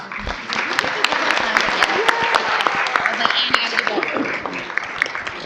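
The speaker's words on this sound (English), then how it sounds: "why don't we give all of our awardees this evening another round of applause" Audience applause for awardees at a community board meeting, a steady wash of clapping with sharp individual claps standing out, and voices talking over it throughout.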